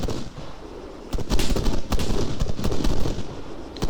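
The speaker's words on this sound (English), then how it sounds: "Shots." Rapid gunshots from an attack boat ring out in loud, dense bursts, with sharp cracks piling over one another in a continuous barrage that continues to the end.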